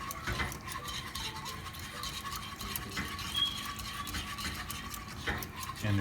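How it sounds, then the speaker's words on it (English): Milk being stirred into a thickening Mornay sauce, a soft continuous scraping and swishing of a utensil against the pan with faint clicks, quiet and close, with no talking. "Now I'm going to add all my milk. And just keep on stirring it."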